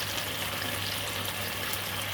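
Water poured in a small amount into a pan of honey mustard pork spare ribs with Dijon mustard, a steady soft splashing hiss running evenly throughout, close and moderately quiet, with no talking.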